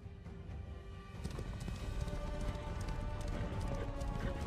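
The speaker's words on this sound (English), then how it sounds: "These horses are kind of neat." Horses gallop in the video game Mortal Kombat X, a dense, rapid clip-clop of hooves that builds and holds steady at a fairly close, moderate level without talk.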